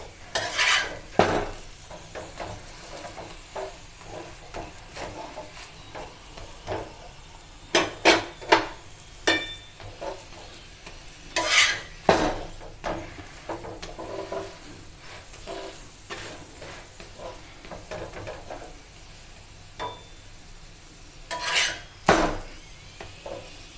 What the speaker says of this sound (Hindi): दोनों तरफ अलट पलट करके सेक लेंगे सुनाला होने तक